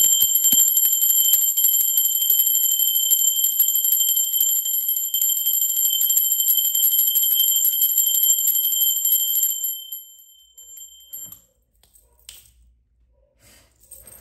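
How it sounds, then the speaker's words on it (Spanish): A bell rung during a Spanish-language tarot broadcast gives a long, bright, sustained ringing tone that stays steady for about ten seconds, then fades away into near silence. "Ahora sí, va campana"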